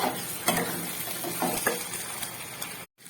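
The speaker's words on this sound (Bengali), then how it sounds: "এবার এটাকে একটু ভালো করে নেড়ে ছেড়ে মশলাটাকে কষিয়ে নেবো।" Spoon stirs masala with capsicum in a hot pan, giving a steady sizzling fry with soft scraping strokes and occasional clicks, moderately loud and continuous with no speech.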